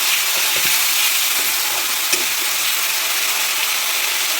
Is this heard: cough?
no